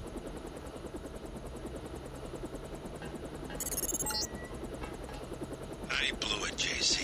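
A helicopter in the Deus Ex video game drones steadily throughout with a constant rotor hum, while a voice talks over it and brief bright electronic bursts cut in near the middle and end.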